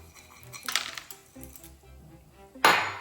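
Peppercorns and unsalted pistachios tumble into ground pork for homemade mortadella, a scattered rattle and clink of small hard pieces hitting a bowl, building to a louder final pour near the end.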